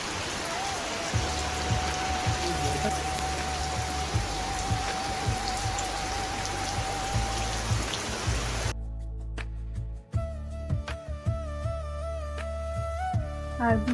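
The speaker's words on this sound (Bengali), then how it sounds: "আর তারপরে এই যে আবার বৃষ্টি শুরু হয়েছে।" Steady rain falls and patters on surfaces during a stormy spell, a dense continuous hiss close by, joined partway through by household clatter and a faint voice.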